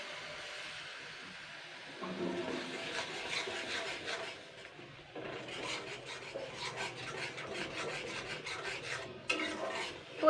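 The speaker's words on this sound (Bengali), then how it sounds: "মিডিয়াম আছে মশলাটাকে কষাতে হবে।" Spice paste is stirred and fried in a pan for a Bengali fish oil chorchori, with soft continuous scraping and rubbing of a utensil against the pan and a low background sizzle, fairly quiet.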